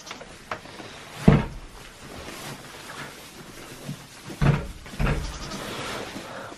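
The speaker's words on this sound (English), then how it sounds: "Willow, open the door back up, you silly goat." A goat bleats a few times in a cold outdoor barn setting, short loud calls separated by quiet gaps, along with some knocking or door-like thumps.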